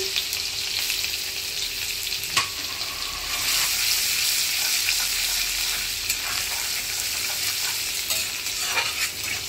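Crushed garlic fries in hot oil with panch phoron five-spice, the base for a Bengali fish curry: a constant close sizzle broken by occasional scraping clicks of stirring.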